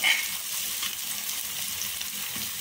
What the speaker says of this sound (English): So I'm just going to let that fry in.